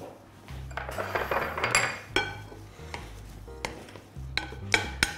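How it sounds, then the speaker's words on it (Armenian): Salad ingredients are tossed in a bowl with utensils, giving irregular clinks, scrapes and clatters of metal against the dish, some louder knocks among softer rustling, with no talking. "Այս ամենը լավ խառնում ենք,"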